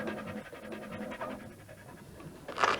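A pet dog pants rapidly and steadily up close, a soft rhythmic huffing that carries on throughout, ending with a brief louder scuffle.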